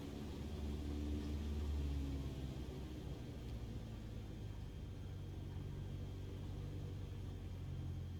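The engine of a Cessna 152 in Microsoft Flight Simulator drones as the plane taxis uphill on the runway at Alpe d'Huez, a steady low rumble with a brief swell in power early on.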